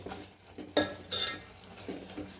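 A spoon stirs tomato curry with turmeric and salt in a pan, giving a few soft scrapes and light metallic clinks close by, quiet and uneven, with no talking.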